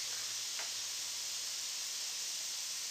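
A Tingles Jr. bath bomb fizzing in bath water gives a steady, dense hiss like spray or static, close and continuous with no voices.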